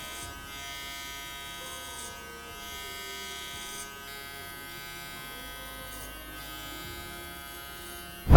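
Electric hair clippers fitted with a number 1 guard cut a taper fade, giving a steady close buzz that hums on for several seconds with slight changes as the clipper moves, and no voices.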